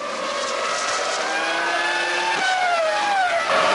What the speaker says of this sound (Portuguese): o Rubinho fazendo a ultrapassagem ali em cima da Sauber